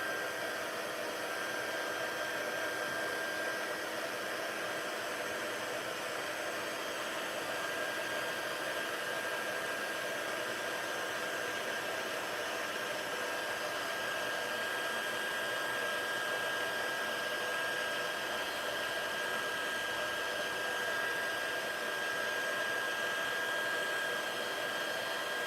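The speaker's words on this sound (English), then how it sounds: "And now I'm gonna get my heat tool, which will not reach all the way" A handheld embossing heat tool blowing hot air over a die-cut piece for a card, a constant even whooshing roar that holds steady for the whole stretch, close up and alone without talk.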